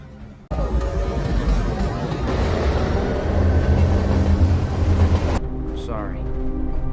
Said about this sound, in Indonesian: Lalu mereka bergegas menuju kereta bawah tanah dan menjalankannya untuk segera keluar dari Raccoon